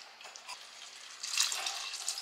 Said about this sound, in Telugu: అందుకోసం చికెన్ కొంచెం ఉడికినాక మనం ఇప్పుడు ఇందులో వాటర్ యాడ్ చేసుకుందామండి.